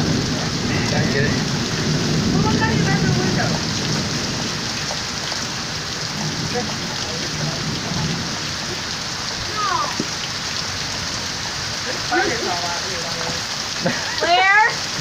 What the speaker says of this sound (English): you know when it rains like this